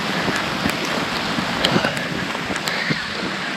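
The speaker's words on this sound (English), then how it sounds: "And here's the rain." Rain from an approaching thunderstorm pours down outdoors during a 100-mile trail race, a steady loud hiss mixed with gusty wind noise on the microphone, no talking.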